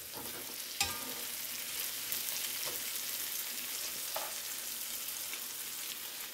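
Onions with garlic and pepper sauté in a pan with a steady, moderate sizzle, broken by a few sharp clicks of a utensil against the pan.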